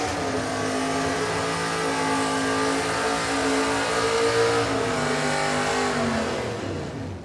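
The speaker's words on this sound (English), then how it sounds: "Yeah, as usual, Trevor Owen carrying that left front tyre almost out to the 60 foot." A drag racing car launches hard at Warwick Dragway, its engine roaring loud and continuous with a steady rising harmonic whine over about seven seconds, no talk over it.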